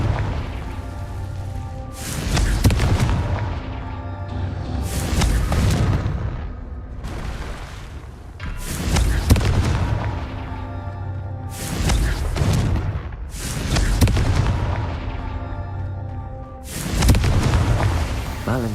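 Confringo blasting curse explosions in the Hogwarts Legacy video game, a series of loud, booming blasts about every two to three seconds, each with a crackling, rumbling decay.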